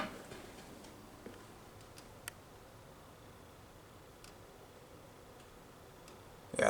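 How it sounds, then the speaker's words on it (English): A light fixture near HVAC units in a Marriott in Athens, Greece, gives off faint, sparse ticking clicks at irregular intervals over a soft background hiss. "I have no idea what that clicking noise is. It's coming from this light, I think."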